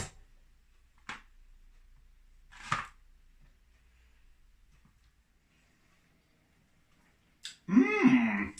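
A knife chops banana flapjacks into small pieces, giving a few sparse, sharp cuts against a board. The cuts are separated by quiet gaps, and a voice is heard briefly at the end.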